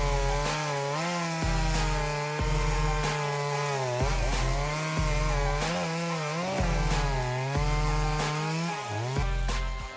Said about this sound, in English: Small but powerful is the word used to describe the working ability of this Shindaiwa 390SX chainsaw.